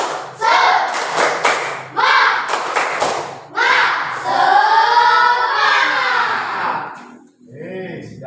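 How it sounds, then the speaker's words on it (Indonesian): A classroom of pupils performs the tepuk semangat clapping chant, with rhythmic bursts of hand claps and group chanting voices close by, ending in a loud sustained shout. "mari kita gerakan tepuk semangat"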